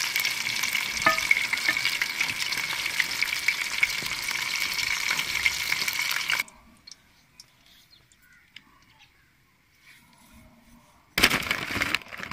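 Chicken pieces for crispy fried chicken sizzle loudly in hot oil for several seconds with dense, steady crackle, then go nearly silent before the frying noise bursts back at the end.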